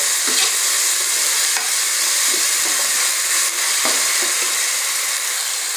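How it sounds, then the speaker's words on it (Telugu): Ginger garlic paste and ground coriander frying in a pan for mushroom gravy, with a loud, steady, close sizzle that never lets up and occasional soft stirring knocks. "వేసుకొని ఫ్రై చేసుకోవాలి. పచ్చివాసన పోయేంత వరకు ఫ్రై చేసుకోండి."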